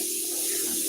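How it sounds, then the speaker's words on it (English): Water runs steadily through, a continuous close hiss like a tap flowing into a sink, alone for a brief moment. "Letting the actual water go through."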